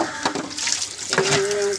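Short burst of tap water running into a sink while dishes are washed, a near splashing flow with clinks and a brief rising filling tone.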